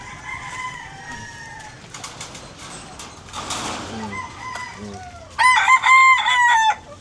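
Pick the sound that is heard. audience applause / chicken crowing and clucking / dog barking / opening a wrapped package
chicken crowing and clucking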